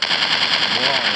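Rapid gunfire from a dinosaur-hunting sniper video game, a dense crackling burst of repeated shots filling the whole short moment at close, loud level.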